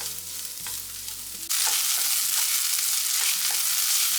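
Masala with ground fennel, clove and cinnamon is sautéed in a pan for paneer pepper masala, a loud constant sizzle that jumps up sharply after a quieter start, with intermittent stirring scrapes close by.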